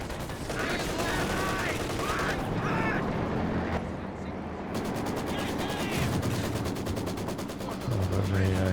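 Heavy mortar and other weapons firing in a Company of Heroes 2 match: a dense, continuous wall of battle noise with repeated booms and rattling bursts, and a voice talks over it.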